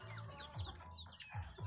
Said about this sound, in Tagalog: Ito ang manok na darag.